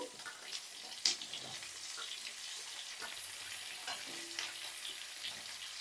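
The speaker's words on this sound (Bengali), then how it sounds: "সব সবজিগুলো এবার দিয়ে দিয়েছি তেলের ওপরে এবার আমি এটাকে একটু ভেজে নেব" Vegetables for shukto, including papaya, carrot, radish, sweet potato and drumsticks, fry in oil with a faint, steady sizzle broken by light stirring clicks and scrapes.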